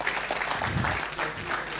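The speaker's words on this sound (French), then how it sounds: "On peut l'applaudir déjà ?" Audience applause at an innovation camp talk on design thinking, a steady wash of clapping from a seated crowd lasting under two seconds at moderate level.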